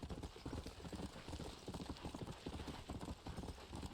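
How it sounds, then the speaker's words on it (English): Galloping horse hooves pound in a fast, dense rhythm during a horse race in the Red Dead Redemption video game, loud and steady throughout with no talk over them. "So we have another horse race here because we need more money."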